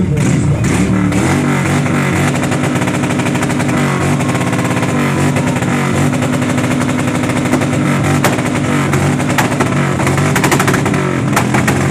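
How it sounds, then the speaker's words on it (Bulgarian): A black Honda motorcycle engine is revved loudly and continuously at a loudest-motorbike contest, a harsh close roar with rapid throttle blips and crackling exhaust pops throughout. "И сега да чуем черната Хонда."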